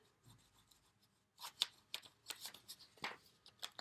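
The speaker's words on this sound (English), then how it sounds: "And now, the magic. We erase again." An eraser scrubs pencil lines off paper in quick, close, quiet bursts of rubbing strokes after a brief near-silent start.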